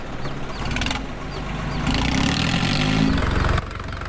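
An 855 tractor engine running near a ploughing field, a loud close diesel chug with a steady low rhythmic beat that swells slightly in the middle.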